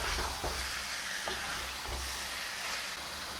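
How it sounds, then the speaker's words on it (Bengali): Chicken liver with ginger and garlic fries and is stirred in a pan over a low-medium flame. A soft, steady sizzling hiss continues throughout, broken by a few faint stirring scrapes. "ধুয়ে রাখা চিকেন লিভার দিয়ে 1 মিনিট মতো নাড়াচাড়া করতে হবে"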